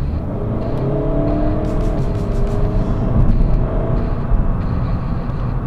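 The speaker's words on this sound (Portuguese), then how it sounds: "se eu carregar no acelerador a fundo, ela é super rápida a tirar duas ou três velocidades e podemos fazer assim uma ultrapassagem em segurança" A Seat Leon FR 2.0 TDI diesel with 184 hp accelerates hard through the gears, a loud steady engine drone with rising harmonics and a brief surge midway, heard close from inside the car.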